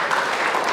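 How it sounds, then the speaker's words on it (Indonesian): Church congregation applauding during an Indonesian worship service, a dense, steady wash of clapping with no breaks across the short moment. "Berikan tepuk tangan buat Tuhan."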